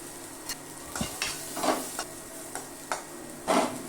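Corn tossed with chilli flakes sautés in a pan, a soft continuous sizzle broken by repeated scraping stirs at a quick, uneven rhythm.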